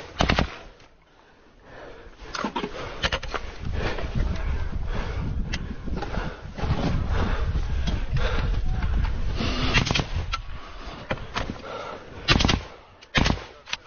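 Automatic rifle fire rings out during fighting in Ukraine: repeated sharp cracks and rapid bursts, loud and close, with voices heard between shots.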